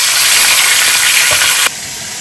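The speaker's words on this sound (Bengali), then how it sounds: "চল মাছটা ভাজা হতে থাক" Fish frying in hot oil gives a loud, steady, close sizzle and hiss that holds evenly and then drops off abruptly near the end.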